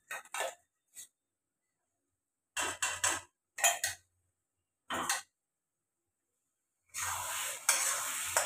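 An onion and cashew paste fries in a pan for dhaba-style kaju masala, with short bursts of stirring and scraping, then a steady sizzle near the end, close and fairly quiet.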